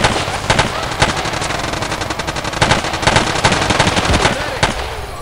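Machine gun fire in the video game Battlefield 2 Special Forces, loud sustained rapid bursts rattling almost continuously with a few heavier shots standing out, close and dense throughout.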